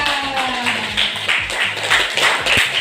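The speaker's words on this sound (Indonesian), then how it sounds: "beri tepuk tangan dulu dong untuk Jessica" Classmates applaud a student in a classroom with a steady run of brisk hand claps, moderately loud and fairly close, without talk.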